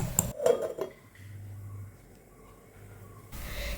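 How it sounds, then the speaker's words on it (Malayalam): A lid set on a cooking pot of spinach and mango curry, a few quick metallic clinks and a rattle up front, then a quiet low hum from the stove. "ഇതൊന്ന് നമുക്ക് മൂടി വെച്ച് കൊടുക്കാം."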